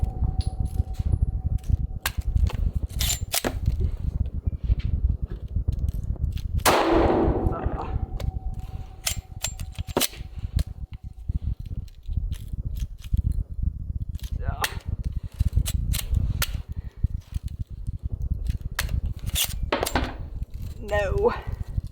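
A PSA Dagger pistol fires a handful of sharp, irregularly spaced shots at a range, punctuated by metallic clanks and handling noise, with a voice talking in between.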